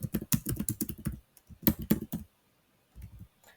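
Rapid keystrokes on a computer keyboard while filling in a name field, a quick burst of close clicks, a pause, a second short burst, then a few scattered taps.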